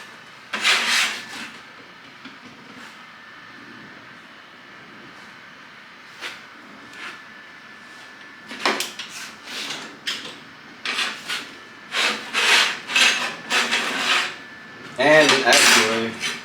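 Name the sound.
wiping work piece, filler rod and tungsten with acetone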